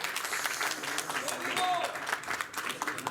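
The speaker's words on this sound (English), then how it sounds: "a round of applause for a fantastic performance from Dmitry Bivol" Room at a boxing press conference applauding champion Dmitry Bivol, a moderate, steady patter of clapping from a seated crowd, fairly distant, with talk under it.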